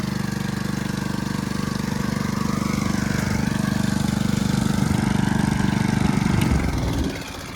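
A rope tow engine runs at a steady, loud droning idle with a low rhythmic throb, then near the end it cuts off abruptly as the stop switch is hit and the sound drops away.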